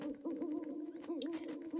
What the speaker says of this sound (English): I like the owl hooting effect